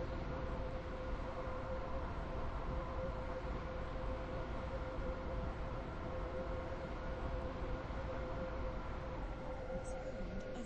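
A steady rumbling train arriving at a station, with a continuous tonal hum, rolls on at an even level, no talking, the noise constant throughout.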